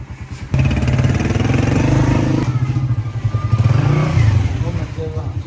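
A motorcycle engine runs steadily and close by, with a throbbing low rumble that swells briefly midway, while people talk over it in a village setting.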